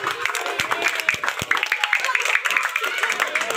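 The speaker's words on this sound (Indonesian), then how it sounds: "Tepuk tangan untuk SD Kojak dulu" Schoolchildren at an elementary school give scattered applause, with sharp, uneven claps over a busy background of noise and voices.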